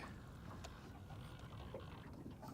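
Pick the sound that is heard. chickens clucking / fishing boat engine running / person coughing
fishing boat engine running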